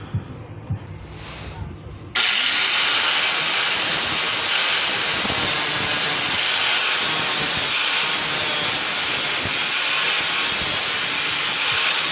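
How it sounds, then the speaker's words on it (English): Continuous loud grinding on the welded, leaking differential cover of a 2004 Toyota Tundra; a quiet stretch of about two seconds gives way to steady, harsh abrasive noise that holds without pause to the end. "I'm gonna go ahead and grind it"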